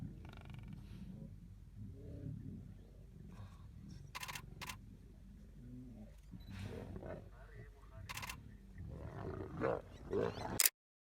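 A young lion roars in the Botswana bush, giving deep, rumbling calls at intervals. People talk quietly nearby, and camera shutters click sharply between the roars.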